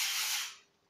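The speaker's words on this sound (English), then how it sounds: "give it a light spray," A single short burst of cooling lubricant sprayed onto a hot dog clipper blade, a close, bright hiss that holds for about half a second and then fades away.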